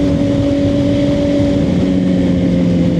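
A Suzuki GSX-R 750 motorcycle being ridden, its engine holding a loud, steady drone with sustained tonal hum and constant wind rush, close and continuous with no speech.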